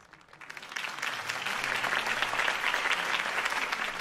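Crowd applause at a political rally for Harvey Dent in Batman: The Telltale Series, a broad swell of clapping that builds within the first second and then holds loud and steady.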